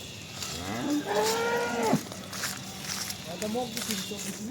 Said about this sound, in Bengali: এগুলা হলো অরিজিনাল বিটের গরু